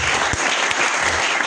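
A church congregation applauds the Lord with dense, continuous clapping that fills the room at a steady, even level.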